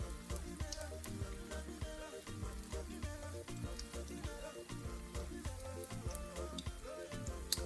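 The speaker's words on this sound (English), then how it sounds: "if your oil is hot, you fry and turn immediately" Nigerian puff puff dough frying in hot oil, a steady, close crackling sizzle with irregular pops and spits that runs on without a break.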